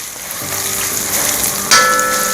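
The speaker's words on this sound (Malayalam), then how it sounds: "ഇഞ്ചി ഒന്ന് ചെറുതായിട്ടൊന്ന് മൂക്കട്ടെ" Chopped ginger fries in hot oil in a pan with cashews, a close, continuous sizzle with a brighter crackling burst near the end.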